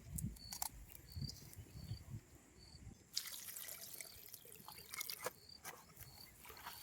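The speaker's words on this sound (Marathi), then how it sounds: "आपण आता भाजी धुवून घेऊ" Fresh, freshly picked green leafy wild vegetables are rinsed in water, giving soft splashing and dripping that swells after a quiet start, with faint insect-like chirps in the background.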